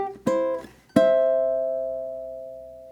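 A few plucked soprano ukulele notes, two quick strums then a final chord left ringing and slowly decaying, clear and close with no voices.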